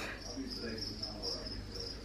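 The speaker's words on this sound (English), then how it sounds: "I would never get the large crickets again." Large crickets chirp in a house overrun with insects, a faint steady high trill repeating throughout at low volume.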